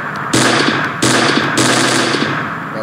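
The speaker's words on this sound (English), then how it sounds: "this is a bullet fire." Bullet fire sound effect played back through a homemade Java music player: loud bursts of rapid automatic gunfire, three volleys in quick succession, with no talking.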